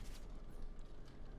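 Horse hooves clip-clopping in the PC strategy game Stronghold: Warlords, faint and distant, a loose rhythm of soft clops over a low rumbling background.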